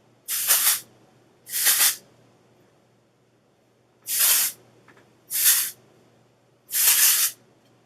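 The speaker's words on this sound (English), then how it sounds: "So now I take my little texturizing spray" Five short bursts of texturizing hair spray hiss from a can, each about half a second long, separated by quiet pauses, close and fairly loud.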